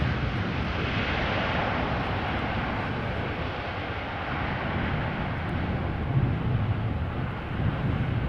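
A Delta Airbus A330 takes off from runway 24 at Amsterdam Schiphol Airport, a steady distant jet engine roar under gusty wind noise throughout.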